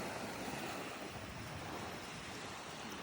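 Sea waves wash steadily onto the shore, a continuous broad rushing surf with wind noise over the microphone, close and fairly loud with no voices.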